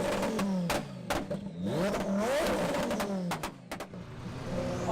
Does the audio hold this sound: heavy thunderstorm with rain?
no